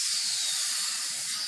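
Steam locomotive in Train Simulator 2016, the Flying Scotsman at Brunswick, giving off a loud, steady broadband hiss of escaping steam that holds for the whole moment with no voice over it.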